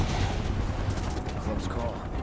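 Soldiers fire guns in Final Fantasy VII Remake, a dense, continuous barrage of shots loud under the game's noisy battle mix.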